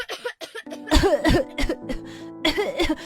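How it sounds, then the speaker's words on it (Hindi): A child's loud, harsh coughing fits close by, several bursts in quick succession with a background tone underneath. "तभी आरव जोर से खांसने लगता है"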